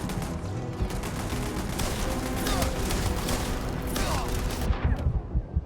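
Automated turrets in the Starfield video game fire in dense, continuous bursts of rapid shots at moderate volume, with a voice speaking faintly underneath before the firing cuts off near the end.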